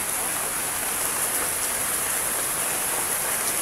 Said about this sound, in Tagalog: Mas lalo lumakas yung ulan.